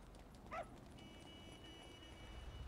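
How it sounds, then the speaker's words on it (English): A dog barks in GTA 5 Online, a single short yappy bark heard once at moderate distance over steady low game ambience, with no talking. "The hell hell's up with all these goddamn dogs?"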